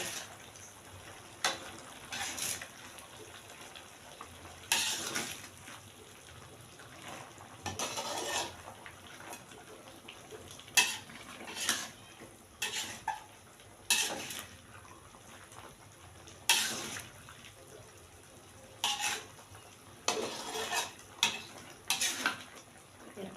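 Peanuts and shrimp stir-fried in a pan with sliced tomato, a quiet sizzle under repeated scraping and clattering stirs of a spatula against the pan, coming in irregular bursts throughout, with no speech.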